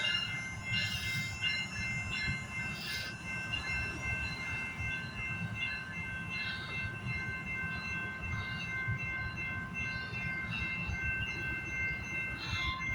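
Trains running in a video game: a steady, loud rumble of rolling rail cars with squealing wheels and faint high whistle tones, continuous throughout with no break.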